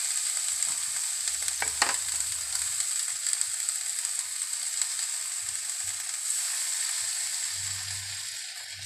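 Fresh squid sizzles steadily in a hot pan while seafood is cooked, a continuous close frying hiss with brief stirring scrapes and a low rumble from the stove, no voices.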